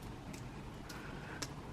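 Faint, sparse drips of water falling from an upstairs neighbour's freshly watered plants outdoors in the evening, about three soft ticks against a low background hum.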